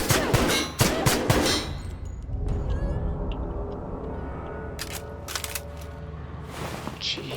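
Gunfire in the sci-fi video game The Outer Worlds: a few sharp shots up front, then a lingering ringing hum with scattered distant pops and clanks further on.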